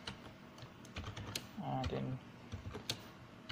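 Soft, rapid clicks on a computer keyboard patter on and off as a person speaks briefly over them.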